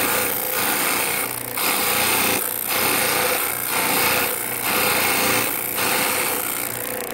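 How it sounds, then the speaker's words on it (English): A power sander works a spinning wooden circle, giving a loud, steady high whine that rises and falls in regular pulses about once a second as the piece turns against it. "We're gonna run this up and start sanding right there. Now all I have to do is spin this guy."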